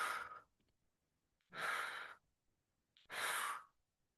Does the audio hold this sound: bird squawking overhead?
no